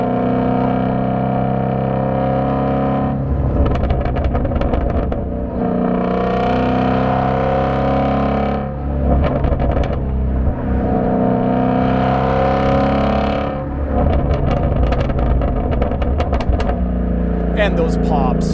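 A Shelby GT350 engine roars from inside the car while driving, its pitch climbing and dropping through several revving pulls and gear changes, loud and close, with a voice talking over parts of it.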